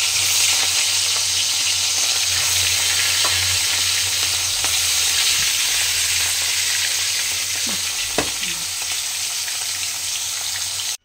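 Fish frying in hot oil in a home kitchen, a steady loud sizzle running throughout with a few soft clinks of utensils near the end.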